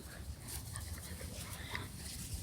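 A young puppy whimpers and whines in soft, high, intermittent bursts close by, indoors, with steady background noise underneath.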